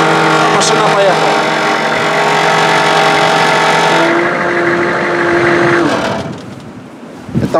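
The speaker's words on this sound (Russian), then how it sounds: "Машина поехала." A car at a training camp revs loudly and drives off, its engine droning close by with a sustained whine before the sound drops away, followed by short bumps and clatter.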